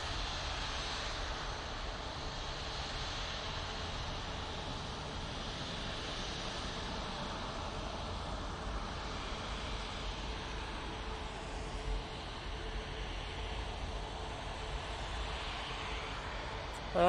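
A Virgin Atlantic airliner departs Manchester Airport, its engines a broad, steady roar that stays fairly distant and constant, with no voices over it.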